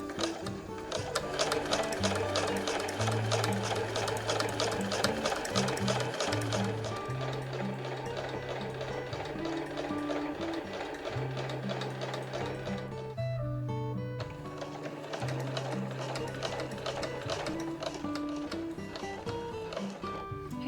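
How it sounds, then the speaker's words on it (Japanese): A sewing machine stitching a fur tote bag, its steady rapid needle hum running in long continuous bursts with a short pause midway, and a voice speaking faintly beneath. "ちゃんと流しておいて、縫いやすい状態で目打ちで整えながら縫っていきます。"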